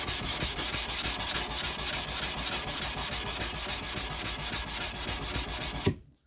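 Sandpaper rasps steadily over a drop point hunter knife blade in fast, even back-and-forth strokes, loud and close, stopping abruptly at the end.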